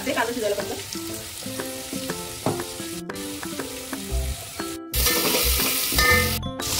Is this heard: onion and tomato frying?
yes